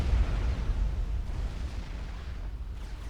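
Nuke launcher strikes in Supreme Commander: Forged Alliance during a 5v5 match on the Pyramid map make a heavy, continuous rumbling of booming explosions, loud and dense throughout, with no talking.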